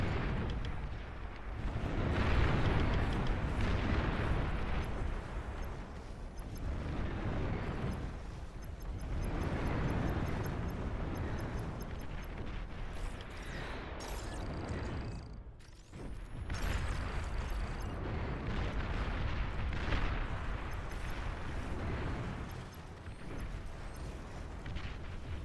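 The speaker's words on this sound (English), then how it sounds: "He built so many rattlesnakes. Or, what do you call them? Long-range plasma cannon" Long-range plasma cannon artillery fire in the real-time strategy game Beyond All Reason, with dense rolling booms and blasts sustained throughout and a brief lull partway.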